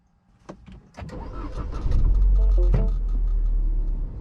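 A 2015 Mini Cooper Countryman S ALL4 engine cranks with a few clicks and whirs, then catches and roars into a loud, steady low rumble close by.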